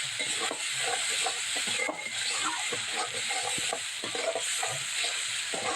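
Spices and salt for a Bengali koi fish curry fry on low heat in oil, a dense continuous sizzle with regular scraping strokes of a spatula, close and steady.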